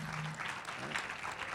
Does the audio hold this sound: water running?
no